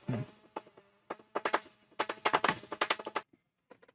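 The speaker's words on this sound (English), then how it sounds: "the rather large, annoying noise happening when the wings were closing" Rapid buzzing and clicking bursts from the small motor mechanism of a 1:18 scale X-Wing model as its wings close, stuttering in uneven clusters, fairly close and loud, then stopping.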